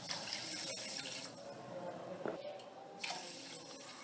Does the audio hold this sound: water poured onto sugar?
yes